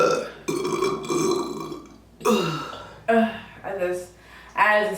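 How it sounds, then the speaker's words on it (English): A string of loud, close, deep burps after drinking beer and Canada Dry ginger ale: one long rumbling belch followed by several shorter, gurgling ones in quick succession. "That was my biggest burp of the night."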